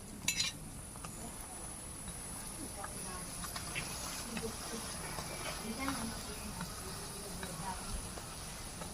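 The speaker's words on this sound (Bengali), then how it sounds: "এইভাবে আমি খুন্তি দিয়ে একটু চেপে চেপে পরোটাগুলো সেঁকে নেব" Egg paratha fries in an oiled pan with a steady sizzling hiss as a spatula presses it down, small metal scrapes scattered throughout while someone speaks over it.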